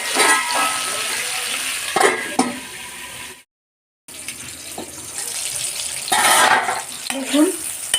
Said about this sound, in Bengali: এবার আমি এটাকে ঢাকা দিয়ে ভেজে নেব।